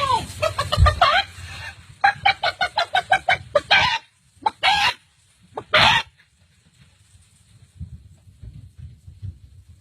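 A person's voice imitates a chicken, giving a rapid run of about a dozen sharp, rhythmic clucks followed by a few louder drawn-out squawks, close and fairly loud, then trailing into quiet room noise.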